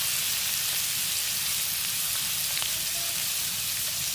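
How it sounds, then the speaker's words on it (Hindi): Ginger garlic paste fries with onions in a hot pan, a loud, steady hiss and sizzle that runs without a break, with faint crackles and no talking. "अब मैं अदरक लहसुन का पेस्ट 1 टेबलस्पून ये पीसा होगा, ये मैं डाल के इसको हल्का सा फ्राई करती हूँ"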